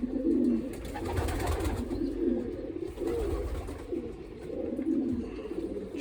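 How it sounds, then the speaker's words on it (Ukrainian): A Jan Aarden racing pigeon, an old bird of about nine years, coos in a low, repeated rolling rhythm, close and fairly loud, with steady murmuring phrases and no talk. "Люблю цього голуба, Він такий Арден, Ян Арден."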